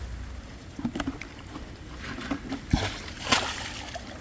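Crabs are tipped out into stream water, making a few short splashes and sloshes, the last two more distinct, against faint outdoor background noise.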